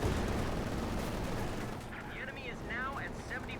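Machine gun fire in the Company of Heroes 2 strategy game, a steady rattle of automatic bursts mixed with distant battle rumble, under a commentator's voice.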